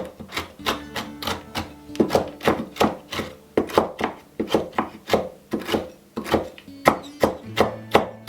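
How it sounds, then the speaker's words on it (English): A handful of pecans is chopped with a knife on a board in a homestead kitchen, a steady rhythm of crisp strokes, roughly two per second, close and clear with no talk. "I'm going to just kind of chop up a handful of pecans"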